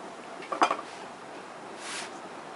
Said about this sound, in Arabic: نشيل بقى الطاسه دي نحط بقى حاجه كبيره